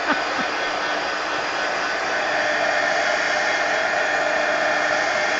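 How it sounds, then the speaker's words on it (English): A heat gun blows hot air in a steady, even roar that holds constant throughout, close and loud, with no talking over it, while working on mixed media planner inserts. "let's go ahead and hit all this with a heat gun"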